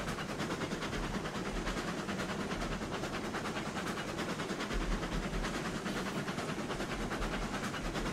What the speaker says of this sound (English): Must be the air compressor.